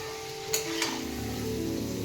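New potatoes fry in hot oil with a steady close sizzle, broken by a couple of sharp utensil clinks as the pieces are moved.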